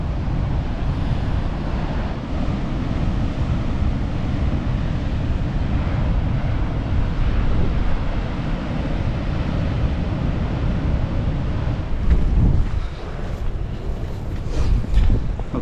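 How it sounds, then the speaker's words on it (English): Strong wind blasts across a coastal cliff viewpoint on the Portuguese coast near Nazaré, roaring steadily into the microphone with loud buffeting and the ocean below, no voices. "very windy"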